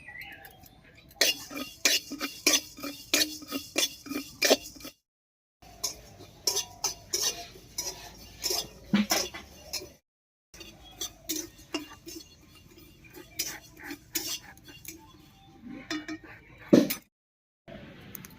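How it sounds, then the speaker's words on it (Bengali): Whole coriander and cumin seeds dry roasted in a wok, with rapid clinking and scraping of a utensil against the metal in quick bursts, pausing briefly several times, close and moderately loud. "শুকনো খোলায় কয়েকটা মশলা ভেজে নেব মশলার মধ্যে দিয়ে দিচ্ছি দেড় চামচ মতো গোটা ধনিয়া আর দেড় চামচ মতো গোটা জিরা একসঙ্গে করে ভেজে নেব"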